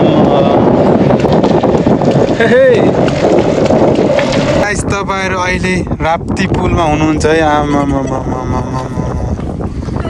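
Strong wind buffets the microphone in a steady, loud roar during a bicycle trip from Nepalgunj to Dang, while a person talks over it throughout.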